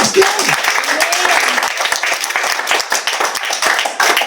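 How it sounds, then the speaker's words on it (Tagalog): Church congregation clapping during a worship sermon, close, fairly loud hand claps from a group with voices calling out over them throughout. "Come on, palakpak pa naman"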